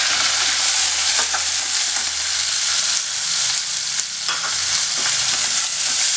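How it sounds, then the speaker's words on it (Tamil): Onions with mint and coriander being sautéed for mushroom gravy, a dense loud sizzle close by with repeated spatula scrapes and taps against the pan, no one speaking. "இதை நல்லா வதக்கிக்கணும்"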